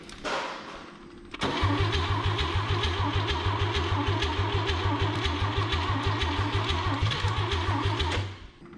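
A 1959 Chevrolet Biscayne engine cranks over and over in a steady, fast rhythmic chug, close and loud, after a brief faint start; the car is struggling to fire with weak spark and a doubtful accelerator pump.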